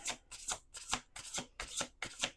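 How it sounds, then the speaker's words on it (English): Oracle cards being shuffled and pulled, a close run of about six rhythmic riffling bursts, crisp and fairly quiet, with no voices. "I'm going to try and pull like 2 or 3 cards."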